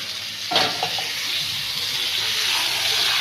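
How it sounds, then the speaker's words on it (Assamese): Chicken pieces frying with onions in a pan give a steady, dense sizzle and hiss, with a brief stirring clatter near the start, continuous and close throughout. "এয়া চিকেনটো ফ্ৰাই হৈ আছে পিঁয়াজৰ লগত।"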